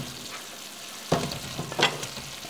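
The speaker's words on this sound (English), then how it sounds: "so I'm going to add in the potatoes" Potatoes are tipped into a pot of beer stew with tender meat, giving a sudden close thud and splash that settles into a low bubbling simmer, with a second plop shortly after.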